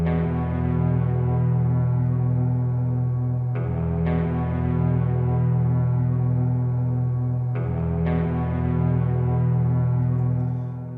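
A Collisions in the Air patch from Sonora Cinematic Panorama Guitars plays as a sustained, droning ambient guitar pad, steady and full, with soft swells at two points.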